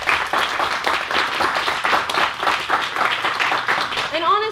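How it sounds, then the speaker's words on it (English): Audience applause at an academic digital humanities event, steady dense clapping from a crowd filling the whole stretch, with a voice starting to speak over it near the end. "let's give a round of applause for the three of them"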